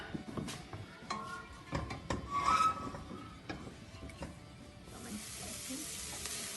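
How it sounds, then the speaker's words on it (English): Vegetables sizzling in a pan for risotto while being stirred, a soft frying hiss with scattered wooden spoon scrapes and taps against the pan, fairly quiet and close. "I'm just going to give our vegetables a stir."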